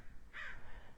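A single short caw from a crow, faint and somewhat distant, over a quiet low outdoor background.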